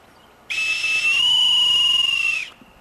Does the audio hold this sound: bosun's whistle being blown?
yes